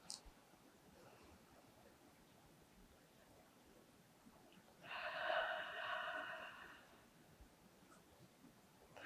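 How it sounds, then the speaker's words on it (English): One deep cleansing breath, drawn in through the nose and let out through the mouth at the close of a hatha yoga session, is heard as a single soft, breathy swell midway through an otherwise quiet stretch. "a deep cleansing breath in through your nose and out of your mouth"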